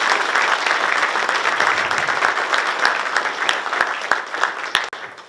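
Sustained applause from an audience at a West Virginia governor's announcement of a Turnpike travel plaza, a dense wash of clapping that gradually thins, with a few isolated claps near the end.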